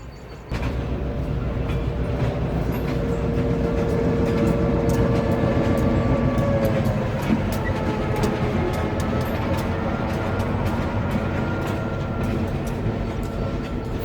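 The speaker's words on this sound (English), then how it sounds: "Free atmospheric effects supplied by New England Central Railroad." A New England Central Railroad train rolls past nearby with a steady, loud rumble and rail clatter that holds for the whole stretch, with no one talking.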